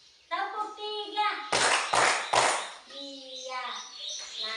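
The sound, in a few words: group clapping in rhythm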